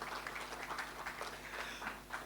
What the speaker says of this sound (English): Give a round of applause to our sponsor.